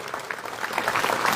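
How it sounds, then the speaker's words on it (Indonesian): An audience at a gathering in Alor, NTT, breaks into brief, lively applause that builds in density over a second and a half. "Yang setuju tepuk tangan dulu yang meriah begitu."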